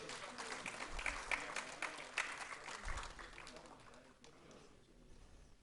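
Applause from an audience at a mushaira poetry gathering, a fairly faint, distant patter of clapping that swells briefly and then fades toward the end.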